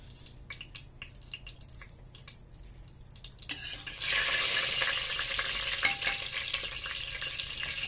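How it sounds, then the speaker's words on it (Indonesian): Onion, ginger and garlic frying in oil in a clay pot, starting with a few light stirring clicks and drips, then breaking into a loud, steady sizzle that holds to the end. "kita goreng dia, bawang dia, halia dia, dia punya bawang putih semua lah, sekali kita goreng"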